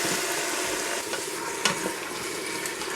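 Meat and its juices tipped back into a hot pan in a Ninja 15-in-1 multi-cooker for green pork, giving a steady close sizzle and stir with one sharp clink partway through and no talking.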